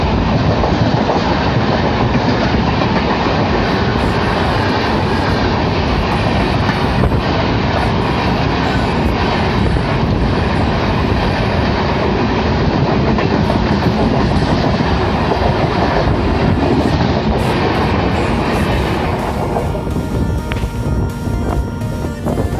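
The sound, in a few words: passing Varanasi Express train hauled by WAP7 electric locomotive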